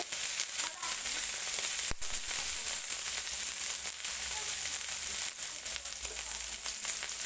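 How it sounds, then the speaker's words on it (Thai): Pork fat renders in a hot pan with a constant, close sizzle, scattered crackles and pops breaking through the steady frying hiss, and no voices heard. "นี่กำลัง กำลังเคี่ยวมันหมู"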